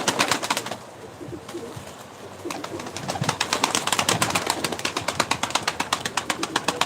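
Many pigeons fill a loft with overlapping cooing and rapid fluttering calls, dense and close, with a brief quieter patch before the chorus swells again.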